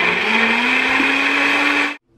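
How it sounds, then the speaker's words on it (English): Blender running at full speed through vegan eggnog ingredients, a loud steady whirring drone for about two seconds that cuts off abruptly. "then I'm gonna blend everything together"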